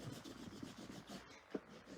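A bone folder burnishes tear-and-tape adhesive strips on a Stampin' Up! pocket card, giving soft, steady rubbing strokes in a close, quiet rhythm, with a couple of sharper scrapes near the end.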